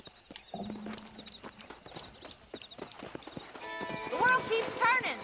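Horse hooves clip-clopping and a horse whinnying near the end in Red Dead Redemption, with someone speaking over them and background game ambience.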